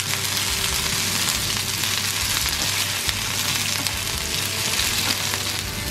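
Green peppers and mushrooms frying in a pan, a loud continuous sizzle and crackle running steadily from start to finish with no talking.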